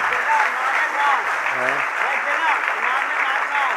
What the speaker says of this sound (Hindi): ये तालियां बजाते रहो बस